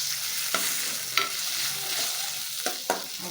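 Ginger and garlic sizzle in melted butter in a pan, a steady frying hiss punctuated by a few sharp scrapes and stirs of a spatula at irregular intervals, close and clear with no talking.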